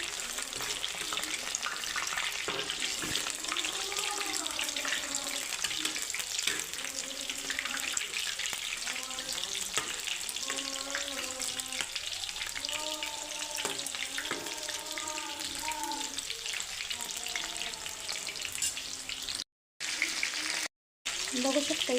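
Chicken lollipops frying in hot oil make a continuous close crackle and sizzle with occasional stirring or turning sounds, and a voice speaks intermittently over it.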